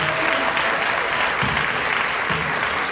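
A cinema audience at a premiere screening of Challengers in Paris bursts into loud, dense applause that holds steady throughout, close and without talk.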